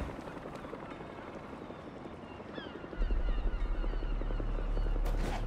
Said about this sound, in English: helicopter's blades.